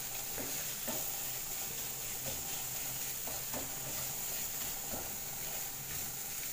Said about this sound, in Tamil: மசாலா சேர்த்ததுக்கப்புறம் வந்து நம்ம கலந்து விட்டுட்டே இருக்கணும்